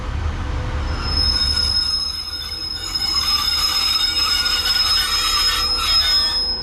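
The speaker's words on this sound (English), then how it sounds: "Some very squeaky brakes." Squeaky brakes on class 150 train 150-224 on the Buxton Line: a loud, sustained high-pitched squeal over rumbling wheels and rail noise as the train slows at a platform.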